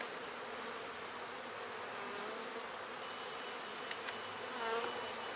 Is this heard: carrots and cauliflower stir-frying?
no